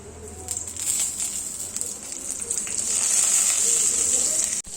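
Dried red chillies, bay leaf and whole cumin tempering in hot oil for a paneer masala, giving a steady bright sizzle that swells louder toward the end, close and continuous with no talk.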